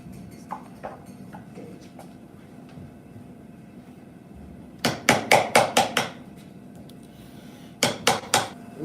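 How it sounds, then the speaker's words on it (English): Sharp chisel strikes into timber during Japanese kanawa tsugi joinery: a quick burst of about six crisp, close knocks, then a short pause and three more, over a quiet workshop background. "The parts where the grain cannot be cut with the saw, it's cut with the chisel."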